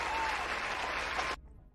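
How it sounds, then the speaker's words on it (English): Studio applause sound effect from a livestream of XCOM Long War, a brief dense burst that cuts off abruptly, then a faint tail. "How about a round of applause?"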